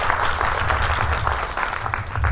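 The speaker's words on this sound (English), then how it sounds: "Give them a big applause." Sustained audience applause at a live business seminar gathering, dense steady clapping throughout, loud and close, with no talk over it.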